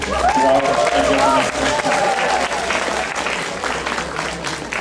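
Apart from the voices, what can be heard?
audience applause at cosplay panel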